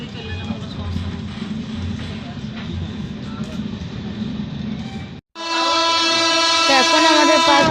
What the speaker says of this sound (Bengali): এখন আমাদের পাশ দিয়ে যে ট্রেনটা পেরোচ্ছে এটা হলো অগ্নিবীণা এক্সপ্রেস